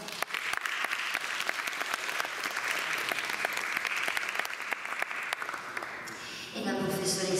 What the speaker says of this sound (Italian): la vicepreside Stefania Sandra, che salutiamo con un applauso.